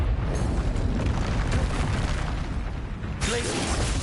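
An Expelliarmus spell is cast in Hogwarts Legacy amid rumbling, crackling game effects, with a fresh bright burst striking near the end.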